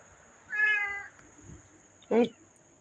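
Two short meows, the second lower and rougher; the first may be a person imitating a cat.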